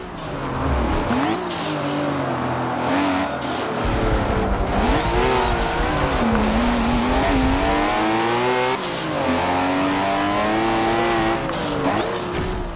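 Loud, continuous engine roar of racing cars in Forza, with revs rising and falling through gear changes and occasional tire squeal, several cars close together on a track.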